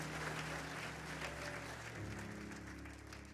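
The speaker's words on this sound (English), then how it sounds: "Why don't you clap your hands to the Lord as you're seated?" Steady applause from a seated church worship congregation, many hands clapping continuously over faint background music, moderately distant.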